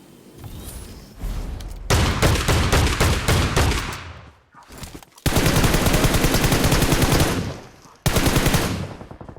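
Shotgun and automatic gunfire ring out in the mobile battle royale game BGMI, loud rapid bursts of shots in several long volleys separated by brief pauses, close and dominant with no talk over them.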